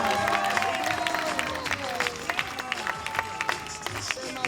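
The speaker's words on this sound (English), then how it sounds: "how about a big round of applause to welcome back our star" Sea lion show audience at the Atlantis Long Island Aquarium breaks into a round of applause and cheering, dense clapping filling the space with crowd murmur throughout.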